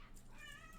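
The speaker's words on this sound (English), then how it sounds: "Meow." A cat named Lily meows once, a clear, close, tonal call rising and falling over steady low background hum, with no speech.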